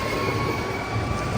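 A tram in Switzerland rolls past close by, giving a steady, loud rumble of wheels on rail with a faint metallic whine running through it.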